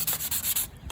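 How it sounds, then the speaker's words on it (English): Sandpaper rubbed by hand over a small wooden piece, a steady scratchy rasp in quick back-and-forth strokes, close and continuous with brief gaps and no talk. "So I have my little piece of sandpaper and I'm just sanding this down."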